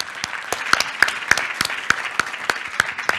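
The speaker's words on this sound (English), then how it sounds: "Let's give an applause to Nataša for that." Sparse applause at a Council of Europe event: a small group claps unevenly, with distinct individual hand claps standing out roughly every third of a second over a soft background patter.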